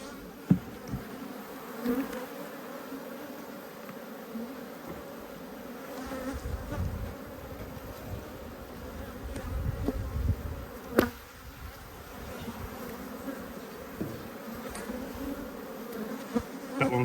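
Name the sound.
honeybees buzzing around a backyard hive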